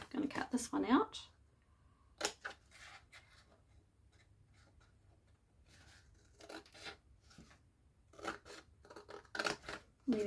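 Scissors snip through a paper template close by, in short crisp bursts of cutting at the start and again near the end, separated by quieter rustling.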